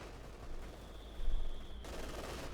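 Machine gun fire in the real-time strategy video game Company of Heroes 2 forms a steady dense rattle of distant bursts under battlefield ambience, swelling louder briefly in the middle, with a thin high tone running beside it.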